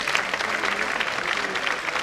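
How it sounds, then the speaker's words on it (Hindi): Applause from an audience at a Holi Milan kavi sammelan, a steady, dense patter of many hands clapping close by, sustained without a break for about two seconds. "तालियां एक बार बजा दो"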